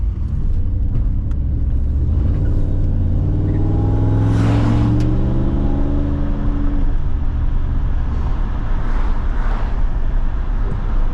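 A 1982 Toyota Supra swapped with a 1UZ V8 engine accelerates with a deep, loud rumbling drone, its pitch climbing and dropping through gear changes, heard from inside the car with road noise.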